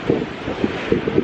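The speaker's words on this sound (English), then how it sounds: "the wind's picking up even stronger now" Strong wind on a beach during sea fishing buffets the microphone, with a constant loud roar and several short gusty thumps, no voices.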